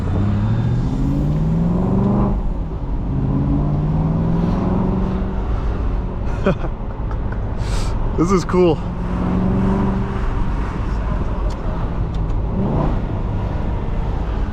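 Engine of a 2008 Aston Martin Vantage V8 convertible while driving, a steady low drone with brief revving rises throughout, heard up close from inside with the top down while people talk over it.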